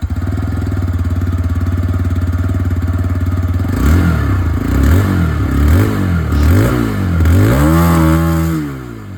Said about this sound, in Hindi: आवाज़ दोस्तों आप लोगों ने एक्सट्रीम की सुन लिया, रेडर की भी सुन लीजिए।